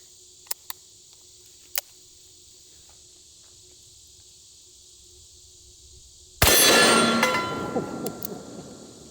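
A single loud 460 S&W Magnum revolver shot bursts out after a few seconds of near quiet with faint clicks, its blast decaying into a long rumbling echo outdoors.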